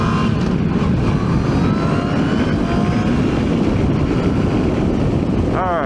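A motorcycle rides out onto a highway in traffic, and its engine rumbles steadily under heavy wind rush close to the rider. A voice talks over the noise.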